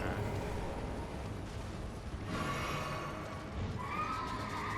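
The spectral steed Torrent in the video game Elden Ring lets out a loud, clear whinny, with a second neigh toward the end over dense battle noise and hoofbeats.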